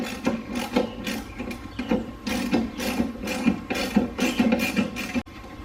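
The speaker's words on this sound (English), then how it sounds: "you're going to need to get with a ratchet" A hand ratchet working a nut off the front sway bar of an R32 Skyline GTR, giving rapid, close clicking in uneven bursts that stop abruptly near the end.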